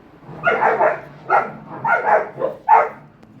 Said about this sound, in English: These dogs making all kind of noise like they ain't got no sense